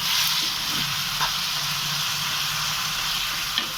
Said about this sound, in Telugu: ఇప్పుడు వీటిని వేయించుకున్నాము.